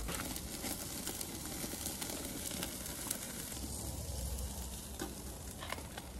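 A thick cowboy steak sears on a PK grill with a loud, continuous sizzle and crackle held close, steady throughout with no voices.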